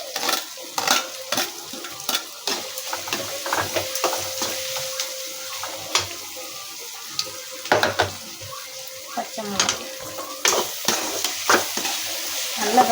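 Green chilies and onions frying in a pan for fish meal maker biryani, with repeated scraping stir strokes and a steady background sizzle, close and moderately loud, no talk.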